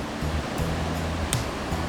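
Water from a man-made waterfall at Wadi Namar park pours into a pool with a steady, dense rushing roar, continuous and close, with no speech.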